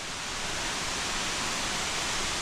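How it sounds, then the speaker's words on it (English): Khun Korn Waterfall in a Chiang Rai, Thailand nature preserve, a steady, loud broadband roar of rushing, falling water close by with no other sounds. "Here we are, Khun Korn Waterfall"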